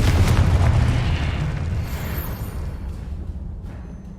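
Spell explosions boom in the Hogwarts Legacy video game, with a loud blast at the start that rumbles and fades away over several seconds, no voices.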